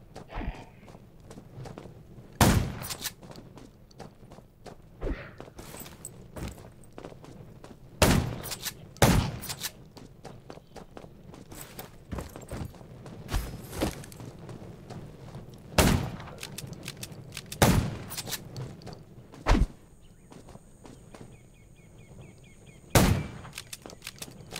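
Gunfire in the Undawn zombie-survival game: sharp, loud single shots crack out at irregular intervals over a low rumbling background, with a faint tone near the end.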